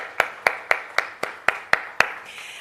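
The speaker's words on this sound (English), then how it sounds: "A round of applause for all our sponsors, please." A single pair of hands claps eight times in an even, steady rhythm, close and crisp, during a round of applause for the sponsors at the Jamaica Diaspora Conference launch.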